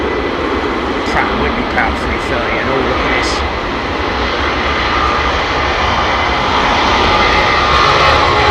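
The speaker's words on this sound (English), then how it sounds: "this A380 off to Dubai" Airbus A380 jet engines on departure from London Heathrow toward Dubai, a loud continuous roar that builds slightly, with people talking over it.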